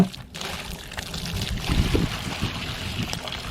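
Boiled juniper water is poured into a stone beer brew, a steady splashing, trickling wash that runs close and continuously, with faint background noise.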